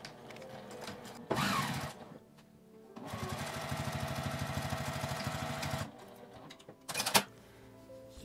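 A sewing machine stitches a line down the middle of fabric for a zippered accordion coin purse. It runs close in short bursts around one longer steady run of rapid stitching, with quiet pauses between and no talking.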